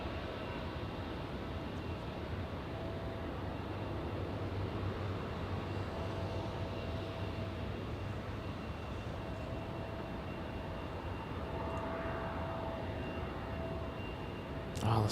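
A Hawaiian Airlines Boeing 787 taking off at Los Angeles airport, a steady, distant jet engine roar that holds evenly throughout at a moderate level.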